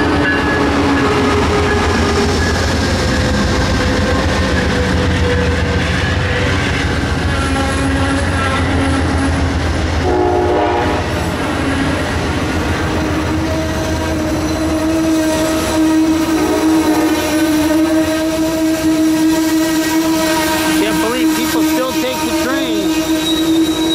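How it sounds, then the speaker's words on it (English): Amtrak passenger train arriving at the station in Santa Barbara, loud continuous rumble of railcars with metallic wheel squeals and whining tones rising and falling, close by and steady throughout. "the Amtrak coming into Santa Barbara"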